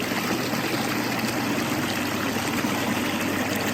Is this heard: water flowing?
yes